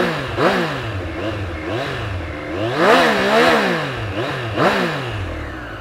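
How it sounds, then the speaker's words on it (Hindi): A 2022 Triumph Street Triple RS motorcycle revs up and falls back in several close, throaty bursts, its exhaust note swelling and easing in a loose rhythm with no talking. "तो ये था इसका एग्जॉस्ट नोट।"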